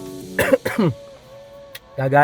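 A person who is getting over a cold clears their throat and coughs in a few short, close bursts inside a BYD Sealion 5 DM-i, with brief speech around them.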